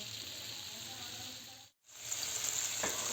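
Onion added to bulgur pilaf frying in a pot, a steady even sizzle that cuts out for a moment, then returns with a brighter hiss and a faint clink.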